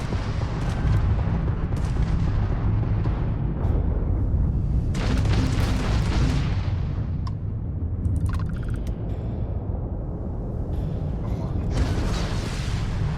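Missile launches from a ship's weapons in the space game Starfield: dense, rumbling booms and blasts that swell repeatedly over a continuous low roar of engine and combat noise, loud and sustained throughout.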